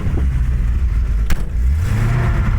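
A 1953 Kaiser sedan's original six-cylinder engine, with a carburetor or intake issue, idles loudly up close, then revs and rises in pitch, a steady low rumble with one sharp click partway through.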